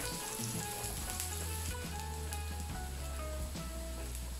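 Meat browns in a pot for cocido madrileño with a quiet, steady sizzle and crackle that continues evenly, accompanied by a faint low hum.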